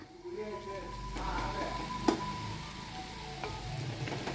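Raw chicken pieces dropped into sautéed onions in a pan for chicken stew, giving a low steady sizzle with one sharp clatter midway and soft scraping around it.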